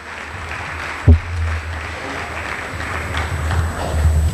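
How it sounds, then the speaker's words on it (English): Diffuse applause rises at an academic and athletic awards banquet for two award recipients, soft and distant over a steady low hum, with one sharp thump early on. "If we can have a round of applause for those two individuals."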